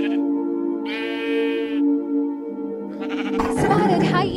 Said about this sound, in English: Texel sheep.